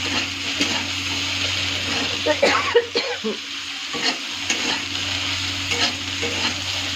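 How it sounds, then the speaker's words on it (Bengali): Okra (bhindi) fry being stirred in a pan after salt goes in, steady sizzling with repeated scraping spoon strokes, close and fairly loud. "আবারও ভালো করে মিক্স করবো"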